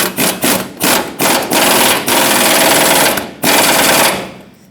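Rear upper control arm bolt on a 2003-2009 Dodge Ram 2500 being run down with an impact or air ratchet. Loud, close bursts of rapid hammering come in several short pulses and then longer sustained runs.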